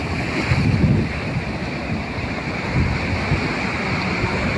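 Sea waves wash onto a beach in a continuous broad roar, with wind buffeting the microphone and no voices present.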